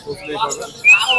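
A bird chirps at an open-air bird market: a short, bright call rises near the end of a brief stretch of market chatter and murmuring voices.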